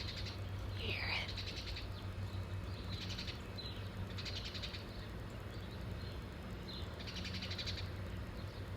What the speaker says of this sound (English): There's a bird up in this tree.